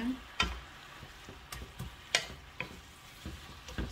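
Spinach stir-fry with soy sauce being stirred in a pan, giving a run of sharp scraping and tapping strokes at an uneven rhythm over a soft, steady sizzle, close and clear.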